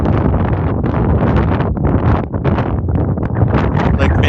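Strong wind buffets and rushes across an exposed hilltop mound, roaring steadily with gusty swells and heavy microphone rumble throughout, with no voices.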